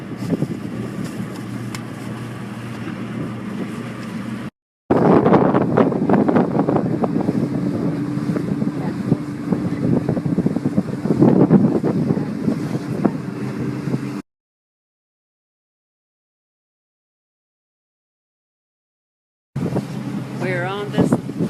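A boat heads out on the open sea off Bimini, with strong wind buffeting the microphone, waves splashing and the engine droning. The sound cuts out to silence for a few seconds before resuming, and voices are faintly heard.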